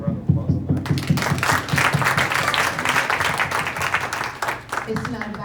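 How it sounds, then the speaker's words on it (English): Town hall audience applause, a dense, sustained round of clapping that fills the room at close range, with a voice speaking over it as it winds down. "So I don't deserve that applause"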